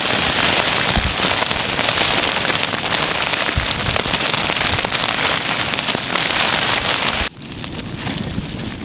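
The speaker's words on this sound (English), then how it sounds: "It's still raining." Heavy rain drums hard and steady on a tent during a coastal camp in gale-force wind, a dense close roar that drops slightly in level near the end, with no voices.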